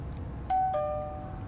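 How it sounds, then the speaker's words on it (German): Doorbell in Digimon Story: Cyber Sleuth chimes a clear two-tone ding-dong, close and clean over a low background hum. "Ding Dong."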